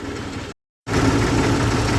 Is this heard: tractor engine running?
yes